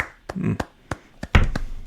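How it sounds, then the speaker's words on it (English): One person claps their hands a few times: a handful of sharp, close, irregularly spaced claps with brief quiet gaps between them. "This is me clapping"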